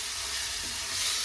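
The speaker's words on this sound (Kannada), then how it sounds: "ನೀಟಾಗಿ ಮಿಕ್ಸ್ ಮಾಡ್ಕೊಳ್ತೀನಿ" Tomato and pasta masala being stirred in a frying pan, giving a steady close sizzle with soft scraping, alone and with no voices.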